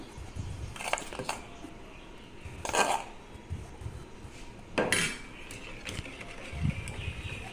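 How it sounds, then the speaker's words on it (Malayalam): A whisk beats mug cake batter in a cup, quiet clinks and taps against the sides in irregular bursts, a few sharper knocks standing out over a soft background. "ഞാനിവിടെ വിസ്ക് ഉപയോഗിച്ചാണ് മിക്സ് ചെയ്യുന്നത്"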